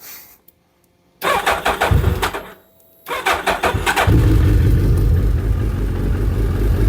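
A Suzuki Hayabusa motorcycle with straight-through exhaust pipes cranks, stalls briefly, then catches and settles into a loud, rumbling idle close by.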